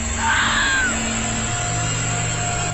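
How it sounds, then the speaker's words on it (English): A strange, eerie scream rises and falls early on during a frightening ritual scene involving a doll, then gives way to a steady low hum and room noise. No one speaks. "Снова эти крики."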